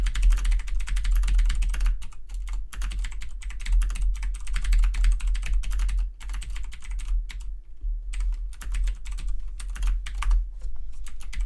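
Rapid typing on a computer keyboard while plugin code is written, a close, dense clatter of keystrokes in uneven bursts with a few brief pauses over about eleven seconds, with no talking.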